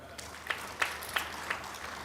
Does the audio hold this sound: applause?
yes